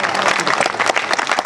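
An audience at a live mimicry comedy show breaks into dense, loud clapping for a brief burst.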